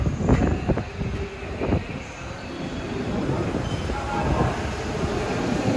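A Long Island Rail Road M9 train, number 958 bound for West Hempstead, rolls past nearby with rumbling wheels, a few sharp clanks early on and a steady rail roar building toward the end.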